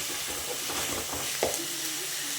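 Masala sizzles and fries in hot oil for palak paneer, a dense, steady hiss with a few sharper spits and stirring scrapes, close and constant throughout.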